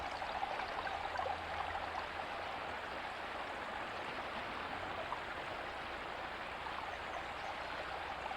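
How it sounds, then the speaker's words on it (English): Steady flowing water of Eels Creek along a rocky shoreline, a continuous broadband rush and trickle that holds at an even, moderate level throughout with no voices. "eagerly awaiting for the sound of Eels Creek, which would direct us to where we were going."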